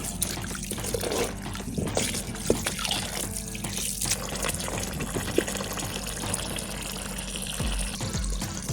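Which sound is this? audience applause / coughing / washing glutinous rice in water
washing glutinous rice in water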